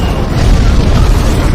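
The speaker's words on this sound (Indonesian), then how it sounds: "Dan tak lama kemudian sebuah RPG kembali ditembakkan." An RPG rocket blast in an action film, a loud, sustained low booming roar with heavy rumble that fills the whole short moment without a pause.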